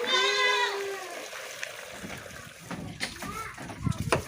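A goat being raised in a village bleats loudly up close, then slurps and splashes while drinking salt water from a container, with people talking nearby.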